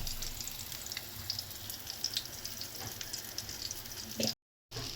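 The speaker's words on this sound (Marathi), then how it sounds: "असं प्रत्येक पीसला आपण प्रॉपर कोटिंग करून फ्राय करू" Coated pieces of mushi (shark) fish frying in a pan, giving a steady, moderately quiet hiss and sizzle with scattered crackles, broken by a brief dropout near the end.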